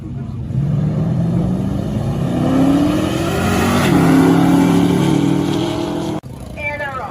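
Muscle show cars driving a lap in hot weather, engines droning and revving steadily in rising pitch sweeps, loud and close, with a faint voice under the engine noise.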